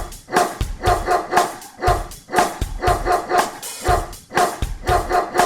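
A cartoon dog barks repeatedly in a nursery rhyme, rhythmic bow-wow yips pulsing steadily throughout, loud and close over musical backing.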